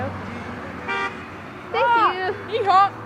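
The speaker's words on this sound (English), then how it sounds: "He honked." A car horn honks in short toots on a street during a Santa-themed roadside event, one brief beep followed by a couple of louder honks, with people talking nearby.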